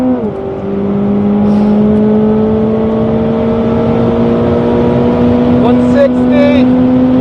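A Corvette pulls hard in sixth gear at high speed on a long straight, its engine note a steady, loud, rising drone with strong harmonics that climbs gradually throughout, under a voice calling out speeds.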